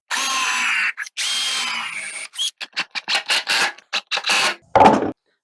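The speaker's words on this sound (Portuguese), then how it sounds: "Eu vou fixar ele agora com um parafuso aqui" A power drill drives screws into a wooden jig on a table saw setup: two long steady whirring runs, then a quick series of short stuttering trigger bursts ending in one sharper burst, close and loud.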